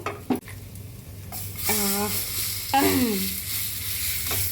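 Food sizzling in hot oil in a home kitchen while frying a snack, a steady crackling hiss with a few clinks of a utensil and brief bubbly surges as pieces are added and turned.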